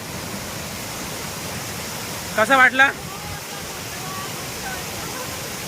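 A waterfall at Manor Dam gives off a steady, even rush of broadband roar that never lets up, with a voice briefly speaking over it near the middle.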